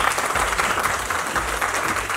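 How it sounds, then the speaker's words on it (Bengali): A crowd claps loudly and steadily, a dense continuous round of applause from the audience at a launch event for the trailer of Kurukshetra, a Bengali-made animated series coming to Netflix. "তাই আমি সকলকে অনুরোধ করব একবার জোরে হাততালি দিয়ে"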